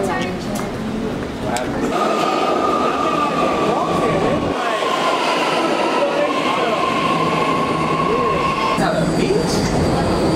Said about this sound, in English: Now boarding at Embarcadero. This is a red line train to Richmond.